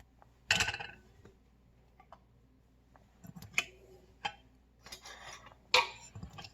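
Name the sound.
screwing lids onto canning jars of habanero jelly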